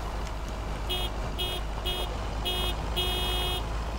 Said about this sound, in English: Let's do a bit of horn honking.